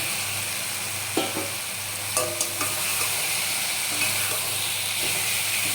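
Potatoes and soybean chunks sizzle steadily in hot oil in a pan, with occasional scraping clinks from stirring over the continuous frying hiss.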